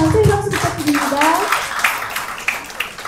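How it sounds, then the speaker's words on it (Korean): Audience at a labor policy forum in Daegu applauding a guest speaker: scattered hand claps start under a voice and continue as sparse, fading claps once he stops. "감사의 박수 부탁드립니다."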